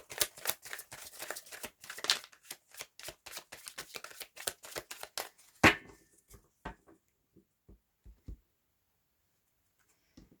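A deck of tarot cards is shuffled in rapid riffling bursts, then cut with a sharp slap, followed by a few soft scattered card taps before near silence.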